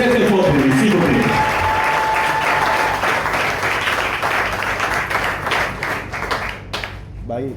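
Sustained audience applause at a French poetry slam in a café, loud and dense from the start, with some voices mixed in, thinning slightly toward the end.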